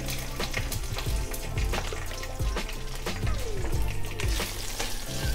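Spices with a cinnamon stick stir-fry over low heat for beef rendang, a constant close sizzle punctuated by regular spatula scrapes and knocks against the pan, no talking.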